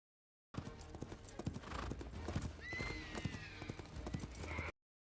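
A horse gallops in a film scene, rapid rhythmic hoofbeats pounding close and loud, with a shrill whinny partway through and other scene noise mixed in.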